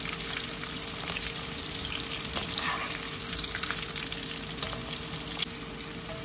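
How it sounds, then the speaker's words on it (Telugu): Shrimp sizzle steadily in hot oil in a pan for shrimp 65, a dense continuous crackle with occasional stirring scrapes, close and fairly loud with no talking. "చూడండి, రొయ్యలన్నీ వేగిపోయాయి."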